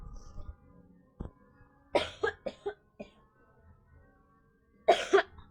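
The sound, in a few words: coughing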